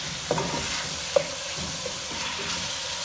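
Chopped medium tomatoes drop into a hot pan for potato cauliflower curry, a soft sizzle with stirring and two sharp taps of a utensil against the pan, close and without talk.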